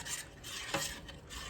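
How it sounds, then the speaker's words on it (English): Thick melted peanut butter fudge stirred and scraped around a pot on the stove, a continuous close rasping, scraping texture with one brief louder scrape midway and no talking. "I'm just going to give it another little final stir."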